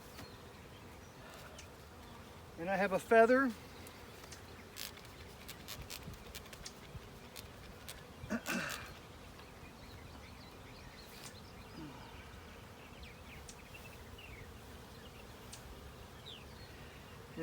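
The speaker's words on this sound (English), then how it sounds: "These are scout bees that are coming back." Returning scout bees from a swarm in a cedar tree buzz faintly in short passes close to the microphone, with a couple of louder buzzing bursts and a brief spoken remark.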